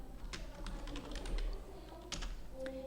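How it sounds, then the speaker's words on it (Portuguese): Keys tapped on a computer keyboard in quick, soft clusters, followed by a firmer keystroke like Enter; close but quiet, with a low hum behind. "Então, dá um Enter, Ana Paula."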